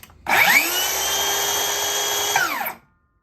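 A Metabo HPT 36V rear-handle circular saw running cordless on battery spins up with a sharp whine, holds a steady loud high-pitched hum for about two seconds with no cutting, then winds down quickly to silence.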